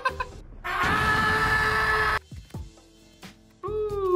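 A voice imitates the shriek of Guzzlord from the Pokémon anime: one loud, harsh, sustained scream of about a second and a half, followed by a few short vocal noises.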